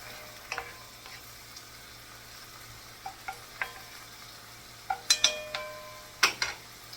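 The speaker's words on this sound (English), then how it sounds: "Gonna let this cook down until the vegetables are getting tender and translucent." Vegetables for red beans sizzle softly in a pot as they cook down, a low steady frying hiss broken by occasional sharp clinks of a utensil against the pan.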